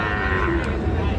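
A Sahiwal breed bull calf at a cattle market in Joypur gives a loud, drawn-out moo close by, rising over the low murmur of the crowd.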